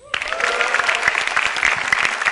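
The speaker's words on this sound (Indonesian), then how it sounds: "Yang jelas tepuk tangan buat komik-komik sebelum saya." Audience at a stand-up comedy show bursts into applause, a sudden dense wash of clapping that stays steady and close throughout.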